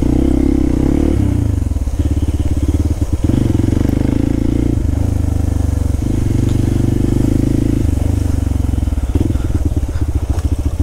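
A motorcycle off-roading along a forest trail near Perandapalli waterfalls, engine loud and close, throttle rising and falling in repeated surges with rattling clatter from the rough ground, running continuously.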